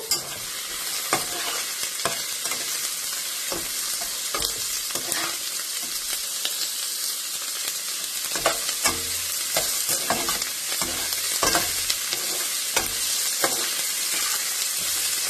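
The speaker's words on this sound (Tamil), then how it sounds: "இது கொஞ்ச நேரம் வதங்கட்டும்" Onion and garlic sauté in a pan with a steady broadband sizzle, punctuated by frequent scraping and knocking stirs of a spoon against the pan throughout, no voices.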